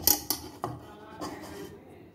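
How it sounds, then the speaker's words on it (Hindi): A metal cake tin set down into a hot preheated pan for an eggless chocolate cake, a few sharp clanks and scrapes of metal on metal, close and fairly quiet. "अब इसमें जो है हम टिन केक रख देंगे"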